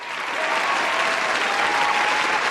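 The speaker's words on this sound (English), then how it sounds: "Let's get a round of applause if Parks fixed the sound" Dense, steady applause from a small group of podcast participants, even and close throughout the short burst.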